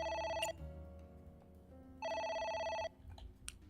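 A telephone rings in the video game AI: The Somnium Files, two electronic ring bursts separated by a pause, fairly loud over quiet background game sound.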